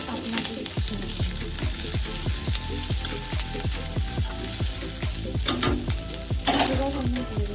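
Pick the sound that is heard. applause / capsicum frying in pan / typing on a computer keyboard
capsicum frying in pan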